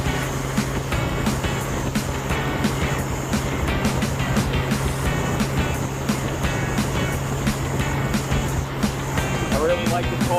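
A Gen 6 Honda Goldwing motorcycle cruises on a highway at about 2,800 RPM, with a steady engine drone under loud wind rush while a rider talks throughout.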